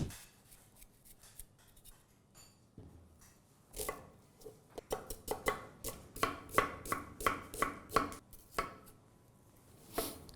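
A knife chops onion on a cutting board while kadhai paneer is being prepared. After a few seconds of quiet handling, close, crisp cuts build into a quick, uneven run of blows.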